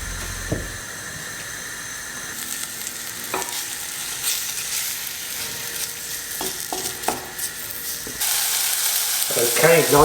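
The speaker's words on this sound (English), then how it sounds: "let's get that beef in there and start browning" Beef chunks for a beef and ale stew sizzle steadily as they brown in olive oil in a hot pan, with occasional stirring scrapes and a sharper, louder burst of frying toward the end.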